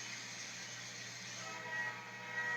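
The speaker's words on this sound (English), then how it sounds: "there's a train coming through" A distant train passes by in a steady, broad rumbling wash. It is heard alone, with a faint horn-like tone appearing near the end.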